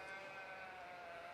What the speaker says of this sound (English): we got a really good set of ewes out here